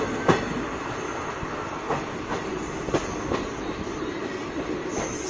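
The 15767 Alipurduar Junction Dooars Intercity Express rolls onto the Teesta rail bridge: a steady, close rumble of wagons broken by sharp, periodic wheel clacks and a faint high squeal.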